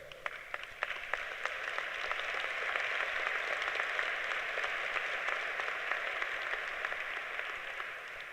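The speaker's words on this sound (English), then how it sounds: "I knew that would get applause from the teacher education section of the audience." A commencement ceremony audience applauds with a soft, even wash of many hands clapping from a distance, a few sharper claps standing out at the start.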